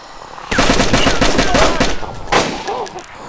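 Rapid burst of DayZ gunfire erupts after a quiet start, a string of sharp close shots followed by a second, shorter volley, with faint voices underneath.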